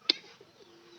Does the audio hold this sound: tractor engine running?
no